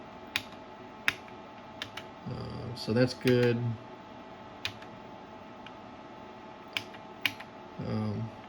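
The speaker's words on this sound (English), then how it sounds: "I hear the relays clicking every now and then" Scattered sharp clicks of relays inside an HP 3585B spectrum analyzer under repair tick at irregular intervals, faint and close, while someone speaks briefly in between.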